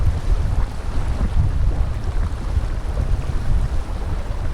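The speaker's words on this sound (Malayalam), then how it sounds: "എല്ലാ സമയത്തും തന്നെ തടാകക്കരയിൽ സുഖകരമായ കാറ്റും ഓളങ്ങളും ഉണ്ടാകും" Steady wind buffets the microphone on the shore of a lake near Munampu at Anchuruli, with a dense, rumbling rush of air and water lapping close by throughout, and no voices.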